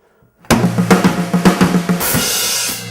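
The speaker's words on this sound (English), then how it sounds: "it's all single stroke rolls." Fast single-stroke drum fills move around a rock kit, with rapid tom and snare hits for about a second and a half before landing on a crash cymbal that rings out, played alone and loud.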